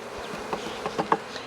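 Honey bees buzz in a dense, close swarm as hive frames are shaken into a shaker box during a hive check in Jacksonville, Florida, with a few soft knocks and bumps rising through the steady drone.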